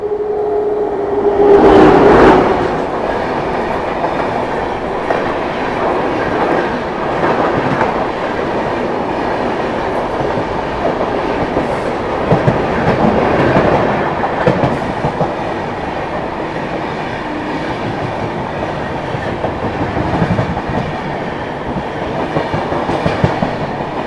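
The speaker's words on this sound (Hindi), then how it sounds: "फिलहाल अभी आ रही है अपनी न्यू दिल्ली डिब्रूगढ़ राजधानी एक्सप्रेस" The New Delhi Dibrugarh Rajdhani Express rolls by alongside, a long steady rumble with rhythmic clickety-clack of wheels over joints and a brief horn-like tone near the start, moderately loud and unaccompanied by speech.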